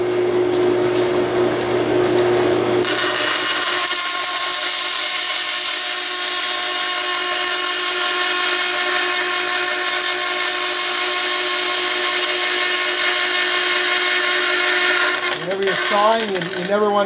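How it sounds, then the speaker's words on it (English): A bandsaw rips strips from wood stock, a loud steady high whine and cutting hiss that sets in after a few seconds and holds, then winds down near the end. "let's saw some strips out."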